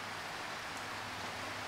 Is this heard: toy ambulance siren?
no